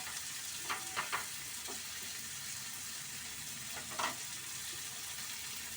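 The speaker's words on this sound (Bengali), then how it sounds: "এই যে এগুলোকে একটুখানি ভেজে নেবো, একটুখানি সামান্য একটু ভেজে নেবো" Ingredients for chutney frying lightly in a pan, a faint steady sizzle with a few soft stirring clicks and scrapes near the start and around the four-second mark, no talk.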